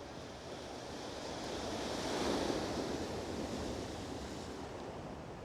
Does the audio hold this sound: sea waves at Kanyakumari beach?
yes